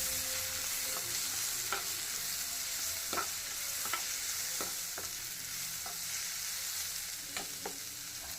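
Tomato with dried and green chillies frying in a pan for a Kannada chicken curry, a steady hiss of sizzling broken by repeated spoon scrapes and taps, close and alone with no voices.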